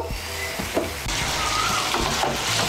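Spice paste being worked into raw pumpkin curry in a hot pan, with a few close scrapes and knocks of the spoon, then a steady hiss of sizzling that rises and continues under further stirring.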